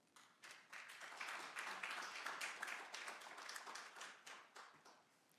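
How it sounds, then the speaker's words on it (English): Scattered clapping from an audience at a city council meeting, rising quickly to a sustained patter and then tapering off, fairly faint and distant. "we ask people not to clap"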